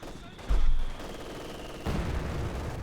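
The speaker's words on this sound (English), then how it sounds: "A mortar that continues to be a massive nuisance here for Acehiro, who's actually popping the machine gun back into the building there" Mortar and machine gun fire in the video game Company of Heroes 2, with a dense rattle of gunfire broken by two heavier booming bursts over steady battle noise.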